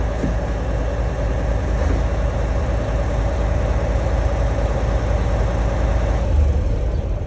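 A car engine idles steadily and close by while the clutch is pressed and released, its low, even rumble shifting only slightly, with no voices heard.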